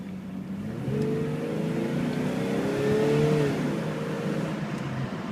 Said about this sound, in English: I'll go ahead and do a hard acceleration